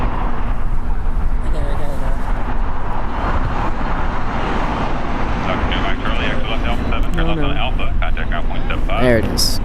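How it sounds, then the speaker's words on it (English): A DHL Boeing 767ER freighter, 33 years old, lands at Los Angeles International Airport, its jet roar steady and loud throughout over constant broadband noise, with voices talking over it. "It's DHL 1820 coming in from Seattle. It's a Boeing 767ER freighter."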